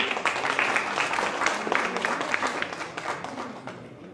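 Audience clapping at an art exhibition in Pune, a dense, sustained round of applause from a crowd, steady throughout and gradually thinning toward the end.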